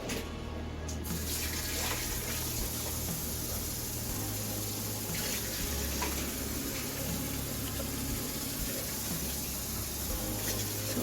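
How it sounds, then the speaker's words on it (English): Water pours steadily into a pot of fruit for sauce, a continuous close splashing rush like a running tap, loud and unbroken throughout with no talking. "So I'm gonna add some water in here."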